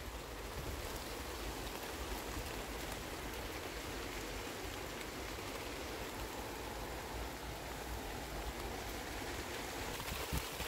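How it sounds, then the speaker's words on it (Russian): A heavy rain downpour pours steadily, a dense, unbroken roar of water hitting surfaces from close by and all around, with no voices over it. "Там видно, такой ливень сумасшедший."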